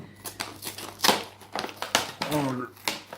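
Plastic-and-cardboard Hot Wheels toy car packaging being torn and ripped open in a series of crinkling, crackling bursts, close by, with someone talking over it.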